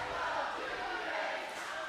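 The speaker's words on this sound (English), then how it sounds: "Listen to this crowd." Dense, roaring crowd at a live SoCal Pro heavyweight title wrestling show in Vista, California, cheering and chanting steadily throughout, with no break in the noise.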